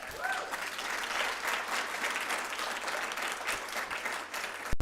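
An audience applauds steadily for a woman who has just spoken at a youth mental health and wellbeing event, the clapping sustained and fairly even across the whole stretch with a brief louder burst at the end.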